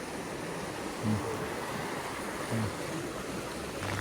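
Heavy rain pours down steadily during a flood in Gurun Panjang, Bayang, Pesisir Selatan, where floodwater runs like a river, forming a loud continuous wash with a couple of faint brief thuds.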